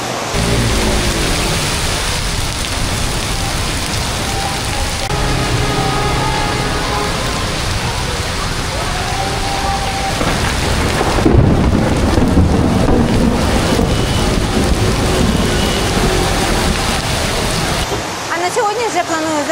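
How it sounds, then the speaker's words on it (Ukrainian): Heavy rain pours steadily during a thunderstorm on a beach trip in Vietnam, with a constant loud wash of rainfall and wind buffeting the microphone and a rumbling swell of thunder midway. "Ох, блискає як і гримить."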